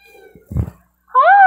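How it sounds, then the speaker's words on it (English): A short rustle and soft thump, a pause, then a clear, rising cat meow close by. "that's my cat."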